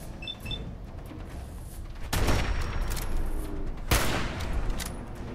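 Sniper rifle shots in Fallout 4, two loud booming cracks a couple of seconds apart over a steady rumbling background, no talk.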